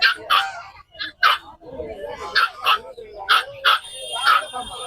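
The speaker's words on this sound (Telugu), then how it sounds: "ఇదైతే ఆ కింద ఉన్న కుక్క పిల్లని చూసి ఇదైతే అరుస్తుంది." A big dog barks at a puppy at a busy old market in Pallavaram, Chennai, giving about eight sharp, close barks in an uneven rhythm over a background murmur of market voices.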